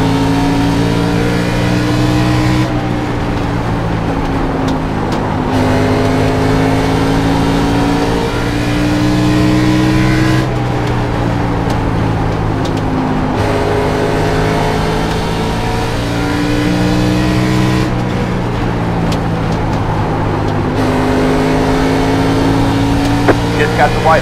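A race car engine in a sim racing game, a loud, sustained engine drone with rising and falling pitch as it shifts through gears lap after lap, with a voice speaking over it.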